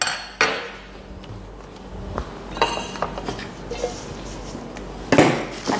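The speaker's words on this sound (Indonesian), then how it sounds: "kita ulek sedikit" Stone mortar pounding chopped ingredients for a chili tamarind sauce for patin fish, giving a few sharp knocks and clinks spaced irregularly over a quiet kitchen background, with the loudest strike near the end.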